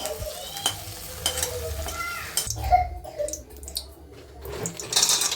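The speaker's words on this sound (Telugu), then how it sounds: "గీ వేడైన తర్వాత కొబ్బరి ముక్కల్ని వేసుకొని ఎర్రగా ఫ్రై చేసుకోవాలి." Coconut pieces fry in hot ghee in a kadai for sweet pongal, with brisk ladle scrapes and knocks over a crackling sizzle. A brief watery splash and a hiss follow, all heard up close with no voices.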